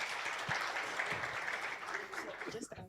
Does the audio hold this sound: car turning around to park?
no